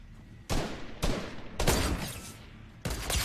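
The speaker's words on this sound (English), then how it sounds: "someone tries to minigun me" Bursts of heavy gunfire in a shooter video game: loud broadband volleys starting at about half a second, with a sustained roaring stretch in the middle and another burst at the end, no talking.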